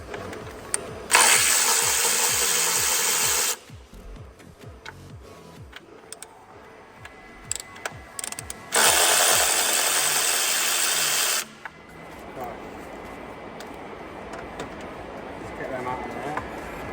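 Power tool loosening mounting bolts on the brake of a DAF CF Euro 6 truck in a workshop, with two loud sustained bursts of a few seconds each, separated by quieter clattering and workshop noise.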